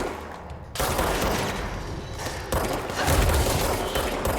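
Gunfire in a firefight in the video game Control, with dense bursts of automatic fire and heavy thuds that are loud and continuous, and a sudden surge after a brief lull.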